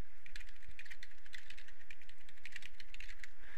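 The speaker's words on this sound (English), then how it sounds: "type in the username you wish to use, and then a password to log on Ubuntu with" Rapid typing on a computer keyboard while entering a username and password during an Ubuntu install, a steady stream of light clicking keystrokes, fairly quiet and close.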